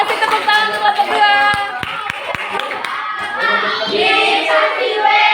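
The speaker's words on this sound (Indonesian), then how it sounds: "kasih tepuk tangan untuk kelompok 2" Classroom applause for a student group in a sociology lesson, a few sharp claps and a rhythmic clapping burst amid children's chatter and shouting voices, close and lively.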